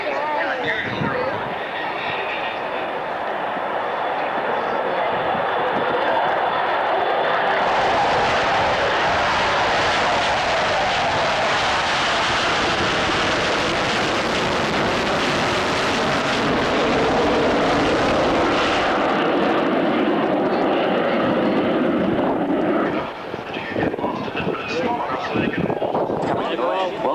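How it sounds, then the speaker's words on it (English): A Royal Air Force Nimrod maritime reconnaissance aircraft flies past the main stand at the Avalon Airshow. Its loud, broad engine roar swells, holds for several seconds, then fades, with a voice faintly audible beneath it. "Listen to the sound, the size of this fantastic and unusual aeroplane."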